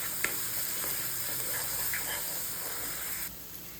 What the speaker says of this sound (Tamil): தக்காளி வெங்காயம் ஒன்று சேர வதங்கி வரணும்